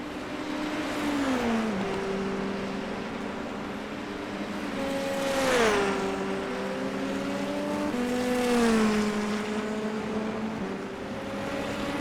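A Dallara IL-15 Indy NXT single-seater races round the Red Bull Ring in a racing video game. Its engine note holds a steady high drone with rising and falling pitch as the car shifts gears and accelerates, with no talking.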